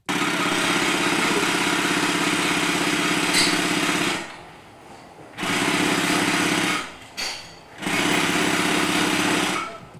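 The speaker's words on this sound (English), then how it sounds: "I also probably have never used this sewing machine before." A sewing machine stitches through a belt in loud, fast rhythmic bursts, running about four seconds, pausing, then restarting in shorter runs with a brief stop between, close and unaccompanied by talk.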